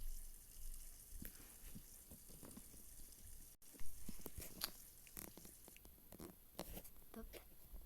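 Shower water runs in a bathroom as a steady, rushing spray, with a voice speaking over it and scattered knocks and splashes breaking through.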